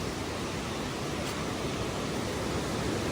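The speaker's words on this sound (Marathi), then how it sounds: "पाण्याचा आवाज बघा तुम्ही, काय फ्लो आहे त्या पाण्याचा." A mountain stream on the Kedarnath trek rushes in a dense, steady roar of flowing water, close and unbroken, with no voices.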